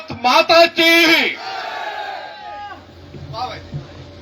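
A crowd at a kavi sammelan poetry gathering during the Shekhawati Utsav fair in Nawalgarh shouts the 'Bharat Mata ki Jai' cheer in loud unison bursts, then the roar trails off into a murmur with a short shout later.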